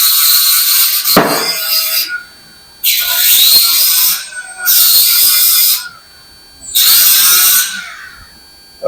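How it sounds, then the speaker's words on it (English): An angle grinder with a flap wheel cleaning metal before welding: four loud, harsh grinding bursts of a second or two each, separated by short silences, very close. "Just going to go ahead and hit that with a flat wheel, clean it up a little bit, make sure I've got some nice metal to weld on."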